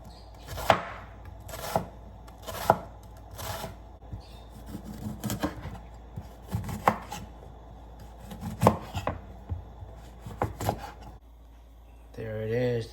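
A knife slices food into very thin pieces on a board for Bun Bo Hue, giving a run of crisp, close chops in irregular bursts with short pauses between.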